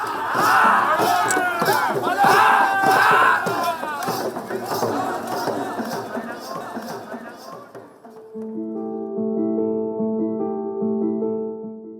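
A crowd cheers and shouts loudly at a late-night Sahi Jatra street performance in the narrow lanes of Puri, reacting to an actor's acrobatics; after about eight seconds the cheering gives way to sustained musical tones.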